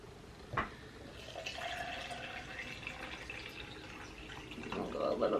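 Tap water runs into a container to mix a powdered juice detox drink, a soft steady faint flow with a brief clatter early on and louder splashing toward the end.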